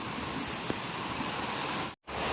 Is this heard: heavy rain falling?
yes